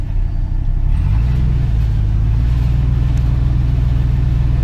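A GMC/Chevy truck engine idling loud and close with a deep, steady rumble that shifts slightly in tone as the transmission is put into drive.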